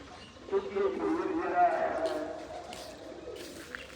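Pigeons coo in soft, throaty bursts in cold weather while someone talks over them nearby.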